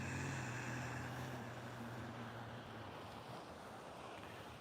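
Ocean waves wash along an oceanfront shore as a steady broad rushing hiss, mixed with wind buffeting the microphone, fairly quiet and with no speech.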